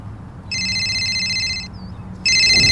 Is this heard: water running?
no